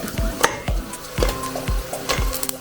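Meat bones being fried in a pan while stirred, a sizzle broken by repeated scraping strokes and soft knocks against the pan in a steady rhythm.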